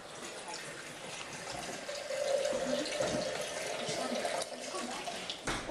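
Liquid is poured from a height into a beaker during a school science demonstration, a trickling, splashing stream that builds midway and runs steadily before stopping abruptly, with faint background voices.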